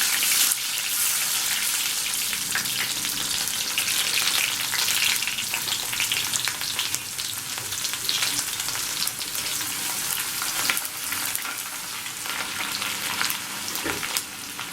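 Chopped shallots frying in hot oil with mustard seeds and fenugreek, the base for a Kerala fish curry: a loud, steady sizzle with dense crackling and popping that runs on without pause.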